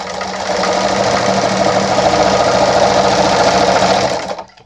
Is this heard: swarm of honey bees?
no